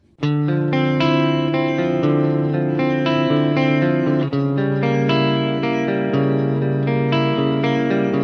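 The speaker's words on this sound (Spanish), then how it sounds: "El sonido limpio ha sido una emulación de un ampli box." Clean electric guitar chords through an amp emulation ring out with lush reverb and echoing repeats, sustained and continuous, played alone without voices.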